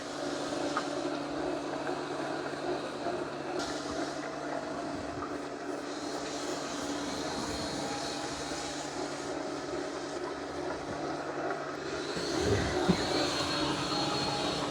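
A Roborock Curv 2 robot vacuum in mop-only mode works steadily across a floor, giving a constant mid-level motor whir with a broadband wash that swells slightly near the end, no voices.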